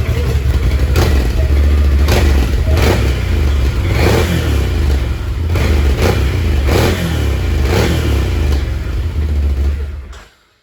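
A Can-Am with a Yoshimura exhaust revs close up, its loud, deep engine roar pulsing through a series of throttle blips over a low idle before cutting off abruptly near the end.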